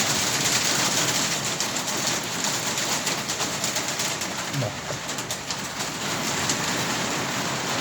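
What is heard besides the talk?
rain falling outside a garage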